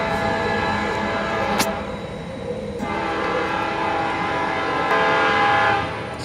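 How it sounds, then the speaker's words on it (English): A train rolls past close by with a continuous rumble and rattle, its horn sounding in long sustained blasts over the passing cars. "Stupid train."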